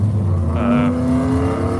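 Race cars of a drag-racing class on strip lanes rev and accelerate, a loud continuous engine drone with a rising tone, close and steady throughout.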